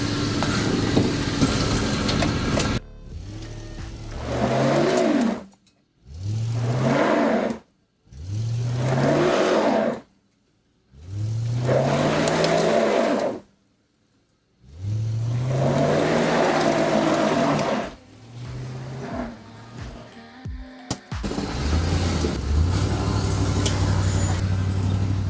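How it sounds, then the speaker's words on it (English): A Ford Crown Victoria on new tires inching back and forth through a many-point turn at the end of a narrow road, its engine revving in repeated short bursts separated by brief pauses, close and fairly loud. "Time to do about a 10 million point turn."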